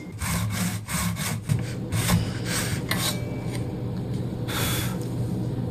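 A hand saw rips steadily through wood while the work is held with wedges, giving close, loud, continuous rasping strokes that run in an even back-and-forth rhythm with no talk.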